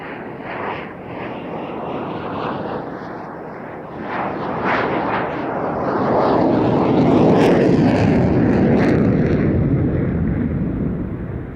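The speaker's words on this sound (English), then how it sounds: "display in the Belgian F-16, present at Duxford" A Belgian F-16 multi-role fighter flies a solo display at the Duxford Battle of Britain Airshow. Its loud jet roar builds and sweeps past, then holds a sustained, rumbling peak toward the end with no talk over it.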